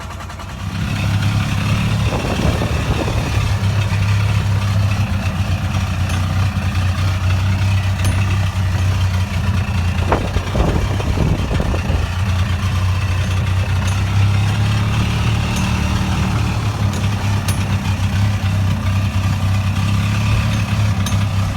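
A Yamaha G1 golf cart's petrol two-stroke engine with bypassed oil injection runs steadily, a continuous low droning hum with a few brief revs, loud and close, no talking.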